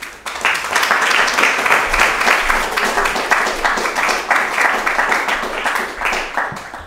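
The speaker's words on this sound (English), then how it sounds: "If we could give a round of applause." An audience applauds honoured guests at a talk in Newcastle, UK, with dense, steady clapping that holds for the whole stretch at a fairly close, even level.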